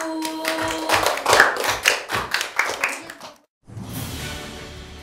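Children and adults clap together at a children's newspaper-education course completion ceremony, a burst of fairly close, uneven hand claps lasting about three seconds before a brief hush and some faint room noise.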